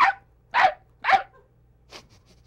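A performer on a late-night talk show imitates a little dog with their voice: three sharp, evenly spaced yaps close to the microphone, then a fainter fourth bark.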